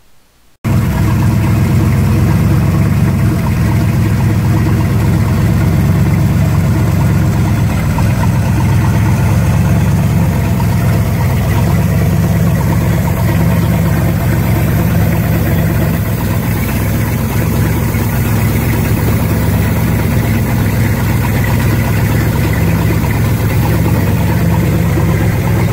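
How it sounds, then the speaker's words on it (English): A new long-block Crusader 454 marine engine, the starboard one on a boat, fires up and settles into a steady, loud, continuous idle that drones on without a break, with no talking over it. "this was the day we started up the starboard engine to test it out."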